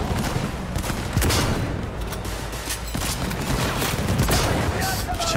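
Rapid, dense gunfire from the Cyberpunk video game fills the whole stretch, continuous and loud with overlapping bursts and booms, while a voice talks over the action.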